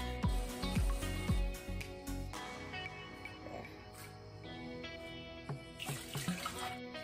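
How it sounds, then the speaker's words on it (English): Water running into a sink during a hair rinse, a steady splashing flow with a few heavier knocks and splatters near the start, close and moderately loud, without speech. "I'm going to rinse my hair right here on our sink."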